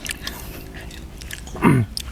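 Crunchy chewing of crispy grilled pork intestine, close to the mic, with a louder crisp bite near the end over a faint background hum.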